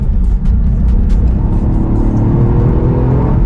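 A Toyota car engine revs hard to its 7,000 rpm redline, climbing steadily in pitch, loud and close, with a brief dip near the start before pulling up high.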